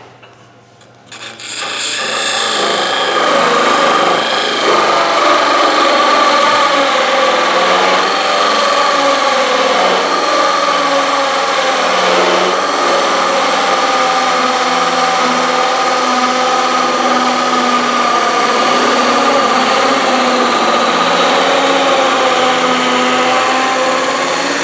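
A drill bit bores through a Corian bowl spinning on a lathe, making a steady, loud grinding rasp that holds without a break after a short quiet start.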